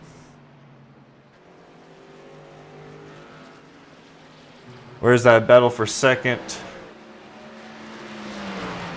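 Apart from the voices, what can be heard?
race trucks racing on track at the Glen, from a video game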